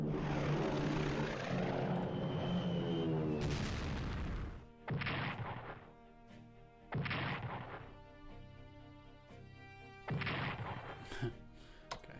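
Heavy rumbling explosions and roaring blasts from bombing in the strategy game Strategic Command: World at War, a long dense barrage followed by several separate booming impacts, loud and without talk.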